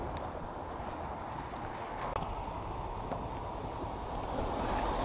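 Steady, heavy wind roars and buffets the microphone continuously, a dense rushing noise with no voices.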